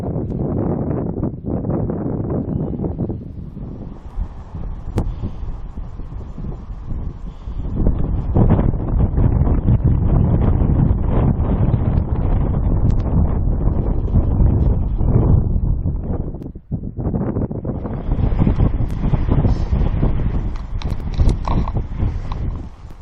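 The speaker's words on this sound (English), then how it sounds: "the wind has dropped a little bit now" Wind gusts across an exposed hillside at a Peak District wild camp on Swine's Back, a loud, continuous rushing roar that swells and buffets against the microphone, dipping briefly before surging again.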